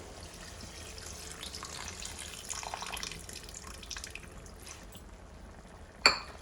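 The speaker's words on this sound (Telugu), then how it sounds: "కొంచెం వాటర్ కూడా మిక్స్ చేద్దాం అదే చింతపండులో కొన్ని నీళ్లు పోసేసుకొని" Water runs and splashes steadily into tamarind in a container for several seconds, ending with a sharp clink near the end.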